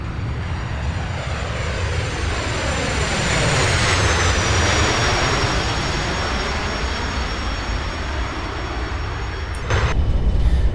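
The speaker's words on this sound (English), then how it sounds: "You should hear the reverses kicking in now." A Boeing 727 in the X-Plane flight simulator rolls out after a crosswind landing with thrust reversers deployed, a loud, steady, deep engine roar with a whining tone that fades slightly, then a brief click and a renewed surge near the end.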